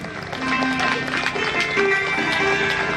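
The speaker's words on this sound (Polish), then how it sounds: "Brawo i gorące brawa proszę" Warm applause from a festival crowd for the team haymaking champions, with steady, dense clapping at moderate distance while a voice speaks over it.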